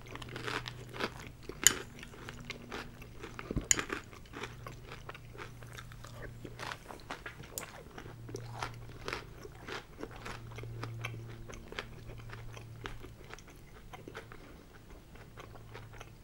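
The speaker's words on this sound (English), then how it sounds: "It sure is going to be crunchier or than cornflakes or Rice Krispies." Crunchy Corn Pops breakfast cereal is eaten close up, with a steady run of sharp crunches and chewing bites, a few louder cracks standing out over a faint low hum.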